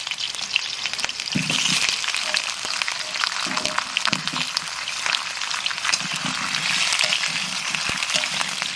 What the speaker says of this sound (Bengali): আমি এদিকে আলুটা ভেজে নিই।